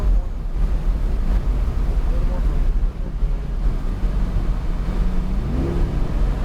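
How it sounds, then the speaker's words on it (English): A Chevrolet Corvette C8 Z51 engine drones steadily with wind buffeting on the Palm Beach International Speedway track, then climbs in pitch near the end as it revs up. "I love that rev."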